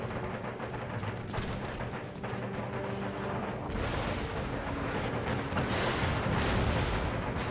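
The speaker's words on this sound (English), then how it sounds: "they just lost 4 men to musket fire" Musket volleys and battlefield gunfire from the video game Empire: Total War, a dense continuous roar of overlapping shots and booms that grows louder in the second half, with no talking.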